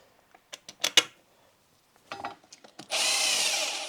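A power drill on an old Yamaha Warrior 350 ATV gives a few short, sharp bursts, pauses, then runs steadily and loudly at the end while driving bolts in, nearby with no talk.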